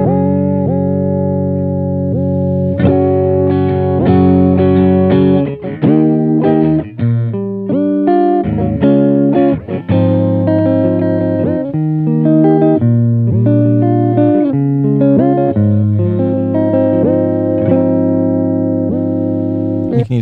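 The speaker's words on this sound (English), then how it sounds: "a cool way to set it to get some warped record sounds is to leave the first half set to a square wave and set the second to a sine wave" Electric guitar played through a Chase Bliss Warped Vinyl pedal with its modulation set for a warped record effect: sustained chords and notes that waver and bend in pitch, with reverb tails, loud and close, no talking.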